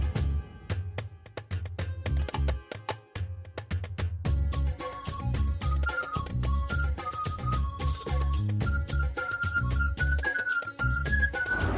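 Rhythmic percussive music with a repeating melody and bright tonal notes; no clear pressure cooker whistle stands out from the music.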